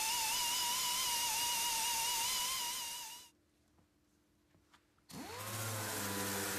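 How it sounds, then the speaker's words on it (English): A gear-driven sanding machine fitted with a 3M 245 P80 green disc strips paint from a damaged car panel, giving a loud steady whine that stops for about two seconds and then spins back up. "Paint is removed quickly and efficiently from the damaged area with a 3M 245 P80 green disc on a gear-driven machine."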